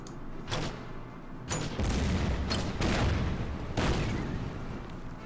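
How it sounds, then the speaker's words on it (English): Mortar fire in the war strategy game Order of Battle, several sharp booming bursts a second or so apart, loud and close, each trailing off into a rumbling decay. "We can fire the mortars."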